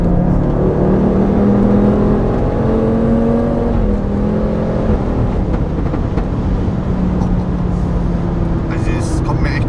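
An Audi RS3 five-cylinder turbo engine accelerates in a continuous loud drone with rising pitch sweeps as it builds speed, heard from inside with people talking over it.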